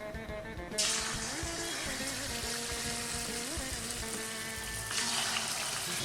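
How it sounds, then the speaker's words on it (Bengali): Marinated katla fish pieces, dipped in gravy, sizzle steadily in a hot pan as a chilli fish is cooked, a broad continuous hiss that swells at the start and again near the end, with no talking. "এবার আমি একটা একটা করে ভাজবো, একটুখানি এই গ্রেভির মধ্যে ডুবিয়ে নিয়ে একটু ভাজছি।"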